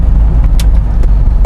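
A C3 Corvette with a faulty kickdown drives along, its engine a steady low rumble that stays loud and close throughout, with a few faint ticks and clicks riding over it.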